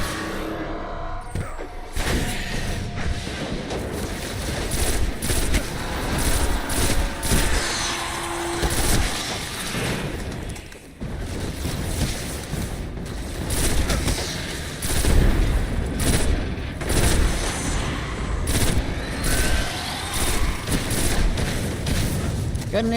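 Pulse rifle bursts from Destiny 1 crack repeatedly amid a busy, rumbling firefight, moderately loud and steady, with a player talking over the combat.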